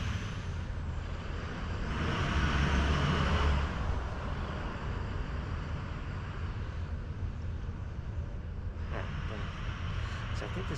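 Truck noise rumbles steadily in the background beside a steel fence post removal job, a broad low roar that swells around two to four seconds and a brief hiss near nine seconds.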